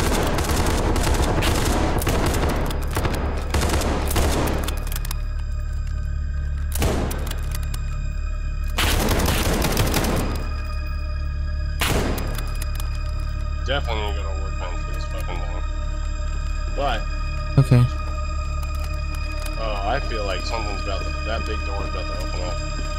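Gunfire in the SCP 5K tactical horror shooter game, loud dense bursts of automatic fire at the start and a few separate heavy volleys later, with a steady background hum and people talking.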